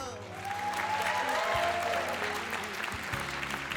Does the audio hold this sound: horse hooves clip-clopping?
no